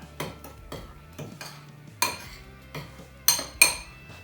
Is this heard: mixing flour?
yes